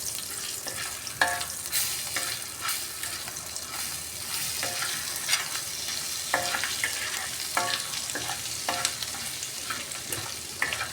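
Paneer sukka with a pinch of turmeric sizzles in a pan while a spoon scrapes and stirs it in repeated irregular strokes, close and fairly quiet, with no talking.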